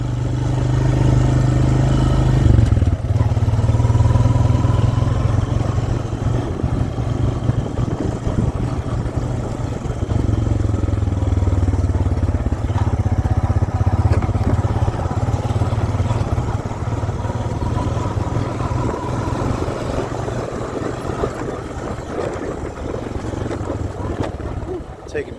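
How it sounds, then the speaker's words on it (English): A four-wheeler ATV with new tires rides around a homestead, its engine droning steadily and loudly throughout with rattling and wind buffeting, no talk heard. "I'm gonna make some jumps, and maybe not for this four-wheeler, but we'll get a little bit of air"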